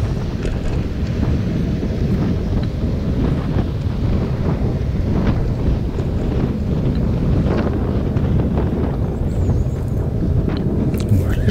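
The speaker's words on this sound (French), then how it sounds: "ce jour-là, le vent était quand même pas super sympathique" Strong wind roars and buffets the microphone continuously while cycling, loud and gusty, masking everything else with a constant low rumble.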